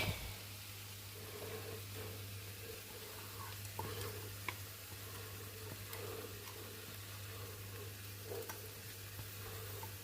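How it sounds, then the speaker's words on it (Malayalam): A pan of tomato masala for chicken tikka is stirred as it sizzles, with a steady faint frying hiss, a low hum and occasional soft scrapes of the spoon. "ഇനി നന്നായിട്ട് നമുക്കൊന്ന് ഇളക്കാം നിന്ന് ഇളക്കി യോജിപ്പിക്കുക"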